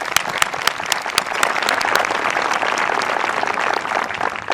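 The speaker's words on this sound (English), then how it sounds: "Let's give them all a round of applause again." Graduation ceremony audience applauding steadily for several seconds, a dense wash of hand claps with a few sharper individual claps standing out, heard fairly close in a large hall.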